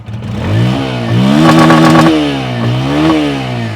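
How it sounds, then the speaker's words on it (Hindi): A Bajaj Pulsar N160 motorcycle engine in ideal condition revs up and down under the throttle, loud and close, with rising and falling pitch sweeps and no speech. "सिंगल अटेम्प्ट पे स्टार्ट हो गई पल्सर N160, आइडियल कंडीशन पर इंजन साउंड। थ्रॉटल देता हूँ,"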